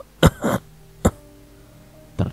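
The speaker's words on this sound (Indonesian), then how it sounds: "Terdengar orang batuk di balik jendela." A person coughs and clears their throat a few times in short, separate bursts, close by, with quiet pauses between.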